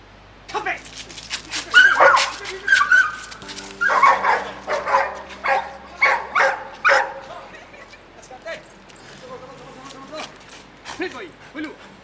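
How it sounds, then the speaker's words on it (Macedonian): A trained dog on the attack command barks and yips in several bursts, under and between a handler's loud shouted commands and encouragement, close and energetic. "Кучето е спремно веќе за напад."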